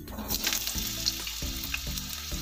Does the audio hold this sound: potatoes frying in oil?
yes